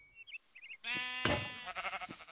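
A sheep in the Minecraft Hexxit modpack bleats, a short close wavering cry preceded by faint chirps, then a second shorter bleat.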